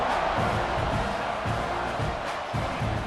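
Stadium crowd in the College Football 26 video game, a dense steady roar of cheering fans that swells and dips in rough pulses, with no clear voice on top.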